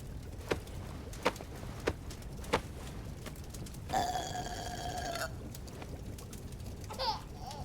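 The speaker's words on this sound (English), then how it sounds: "time for a burping" A baby is burped in the King's Quest video game, with a steady patting rhythm of soft taps, then a wet gurgling burp and a short babbling coo near the end.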